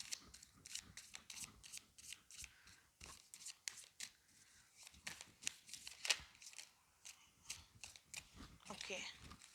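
Tarot cards being shuffled and drawn, giving repeated crisp riffling and flicking bursts close by, with a voice talking in between.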